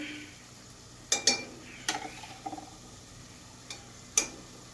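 Mashed eggplant bharta stirred in a pan, giving a few scattered scraping and clinking strokes over a faint low sizzle, with no voices.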